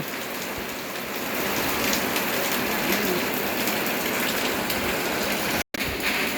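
Heavy rain pours down during a storm in Laos, a dense, steady roar of drops hitting surfaces that runs continuously with one brief dropout near the end.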